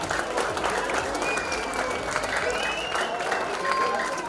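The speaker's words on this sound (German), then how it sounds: "jetzt haben wir einen riesen Applaus" Crowd applause at the Wetzikon town festival, a sustained, even wash of clapping from a large outdoor audience with some whistles and voices blended underneath.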